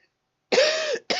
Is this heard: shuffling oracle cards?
no